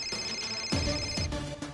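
A mobile phone ringtone plays a bright repeating melodic tone, loud and close, with rhythmic musical notes sounding for the whole short stretch and no one talking over it.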